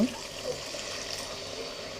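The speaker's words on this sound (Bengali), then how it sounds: "এর মধ্যে এবং কিছুটা পানি দিয়ে দিব" Water is poured into a pan of spicy tangra and baim fish curry, giving a steady splashing, trickling wash that runs without pause for about two seconds.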